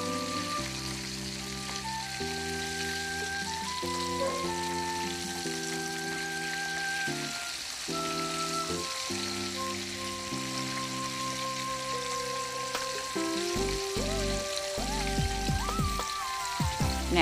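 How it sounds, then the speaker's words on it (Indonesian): Flour-coated chicken pieces fry in hot oil with a steady, crackling sizzle that runs under background music throughout. "Ini akan saya goreng lagi sampai dia berwarna coklat keemasan ya."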